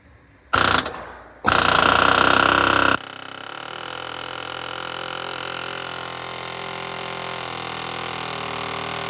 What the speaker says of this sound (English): The air hammer should do it now.